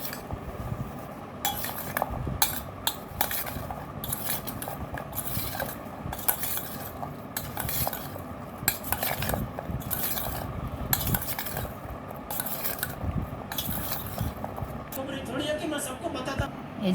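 A spoon stirs and clinks in a bowl as guava is mixed with green chili paste and kasundi, giving steady scraping and tapping sounds close up under a continuous mix of kitchen noise.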